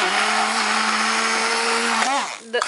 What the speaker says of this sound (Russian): попробую, как оно у меня будет взбиваться блендером